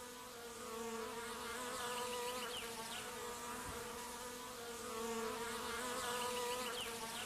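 Bees buzz in the woods, a steady, dense drone of many insects that holds at an even level throughout, with no voices.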